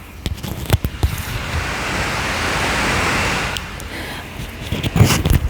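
An Acer Aspire 5 laptop cooling fan under full load gives a broad, steady whoosh that swells up and holds for a few seconds before easing, with clicks and taps around it.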